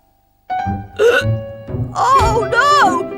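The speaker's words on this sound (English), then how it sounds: "Oh, no! Now I've got hiccups too." A boy in an animated cartoon hiccups in sharp bursts, with lively character voices talking around and over each hiccup at close range.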